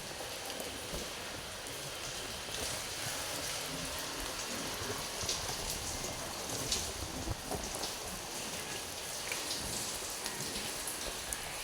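A prolonged rain shower in Soi Khao Talo: an unbroken, fairly loud hiss of drops striking surfaces nearby, scattered crisp splats over a faint low rumble, steady for the whole stretch with no voices.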